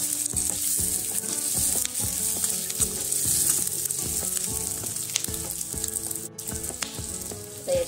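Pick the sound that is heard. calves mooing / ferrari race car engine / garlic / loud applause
garlic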